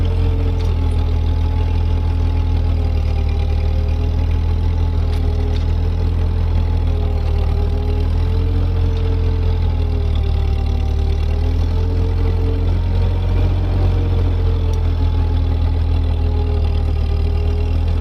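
A Ford 8N tractor fitted with a Sherman transmission runs steadily in low gear while clearing snow, its engine a constant, loud, close drone with a low throbbing and no pauses or voices.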